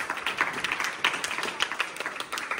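Children clapping together at a Diwali celebration in an orphanage in Badlapur, a brisk, uneven patter of many small hands, moderately loud and close with no talk over it.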